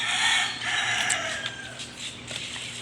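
A chicken held in the hands before a bath, making loud close squawking clucks that rise and fall over about three seconds with no talk.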